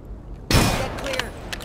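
Submachine gun fire in Rainbow Six Siege, a sudden loud close burst of rapid shots that cuts in and trails into scattered game noise and further shots.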